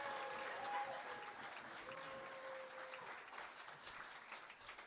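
Steady applause with some cheering from a comedy club audience welcoming a comedian to the stage, fairly faint and distant throughout, with a few whistles or tonal cries over the clapping.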